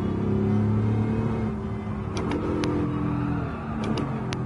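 A 1000-horsepower rear-wheel-drive car in Gran Turismo 7 revs hard and spins out, a loud close engine drone with shifting pitch and a few sharp tyre or clatter accents near the end, no talk.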